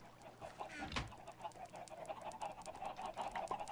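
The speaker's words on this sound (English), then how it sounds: "Gaggle of chickens." A flock of chickens on an egg farm in a video game cluck and squawk near at hand, with one sharp louder call early on and busy chattering clucks continuing throughout.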